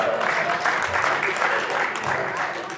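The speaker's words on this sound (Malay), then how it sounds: "Tegamak kau tepuk tangan." An audience at a debate claps in a sustained round of applause, fairly close and even, with a voice talking over part of it.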